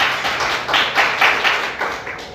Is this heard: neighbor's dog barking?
no